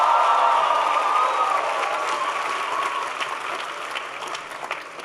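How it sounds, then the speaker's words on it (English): An audience at a town hall applauds steadily for about five seconds, a dense, even wash of clapping that slowly tapers in loudness. "Please give Emmanuel a big round of applause"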